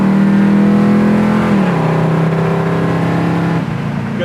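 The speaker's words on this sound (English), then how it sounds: "Sounds just how you want a muscle car to sound." A 1970 Pontiac GTO muscle car engine revving while driving, loud and close with a strong droning tone that holds high, drops as a gear shifts, then holds again before easing off.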